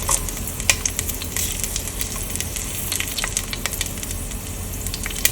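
Fatty pork belly frying in a pan for red-braised pork, with a steady close sizzle and scattered crackling pops throughout as the pieces are flipped.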